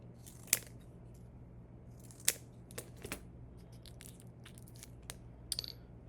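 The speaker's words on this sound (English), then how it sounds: "I'm going to cut one open." Scissors snip through a plastic coin holder in a few sharp, faint cuts and crunches, spaced irregularly over a low steady hum, with no talk.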